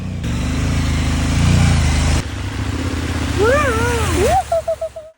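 A KTM adventure motorcycle's engine drones loudly on an off-road trail through water, then cuts out abruptly partway through, followed by a voice exclaiming and a few short, fading bursts.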